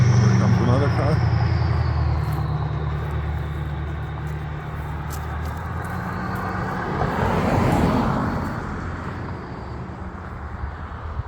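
A car passes by on a road beside a building site, its broad rush swelling to a peak past the middle over a steady low engine hum, with no voices.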